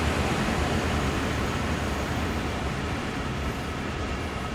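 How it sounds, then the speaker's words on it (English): A steady, loud roar of three locomotives running together in Train Sim World 3 on the Peninsula Corridor line, a dense continuous rumble that barely changes from start to finish and carries no voices. "It's loud. Got 3 locomotives."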